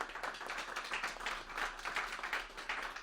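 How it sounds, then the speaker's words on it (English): An audience at a women's heart health community talk gives a round of applause, a faint, steady wash of many hands clapping from a distance. "a round of applause for these two women that are here today"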